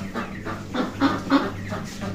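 Chickens cluck in a series of close, repeated calls over a steady low hum, at a market where broilers and ducks are sold, with no talk in between.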